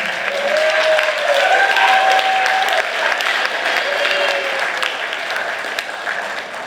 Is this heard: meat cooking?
no